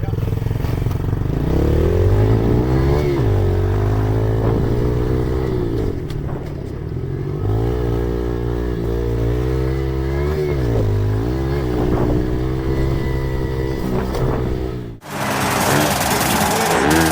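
A Yamaha TTR 110 pit bike engine runs loud and close, revving up and down in sustained rising and falling surges for most of the stretch before briefly cutting out and roaring back.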